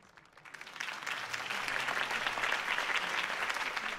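Applause from a crowd at a political campaign speech in a video game swells up quickly and holds steady, a dense wash of clapping with no voices standing out.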